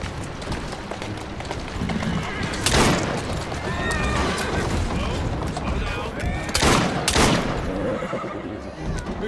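Neighing and whinnying from a horse in Assassin's Creed Syndicate, with sharp loud bursts cutting through busy game noise of hooves, clatter and machinery, with some speech mixed in.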